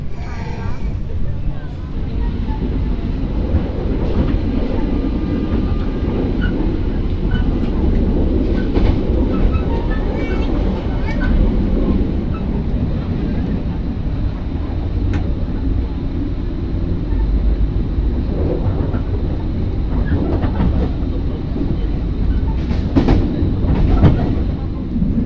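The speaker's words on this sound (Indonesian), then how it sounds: "Kereta api Pasundan" Pasundan economy-class passenger train rolls steadily on its rails, a loud continuous rumble heard from inside the carriage with recurring clickety-clack of wheels over rail joints and occasional sharp metallic clanks, people talking faintly beneath.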